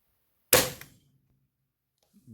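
A Gamo Rocket Destroyer 4.5mm pellet fired from an air rifle through a chronograph makes one sharp, loud crack that decays quickly into silence. A faint, brief noise follows near the end.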